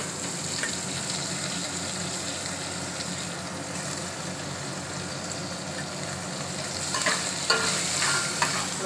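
Chicken and onion sizzle steadily in a pan over a lowered gas flame in a home kitchen, with scraping stirs throughout and a few louder clatters near the end.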